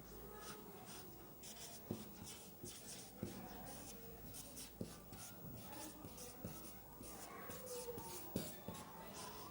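Chalk or marker writing out a short Hindi sentence on a board during a grammar lesson, a steady scratchy rubbing with sharp taps at stroke ends, close and fairly quiet, with a teacher's voice faintly present.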